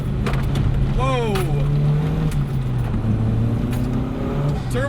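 A turbo-swapped Mk1 VW Jetta accelerates hard with its turbo spooling, a loud, close engine note rising in pitch through the revs, while someone talks over it.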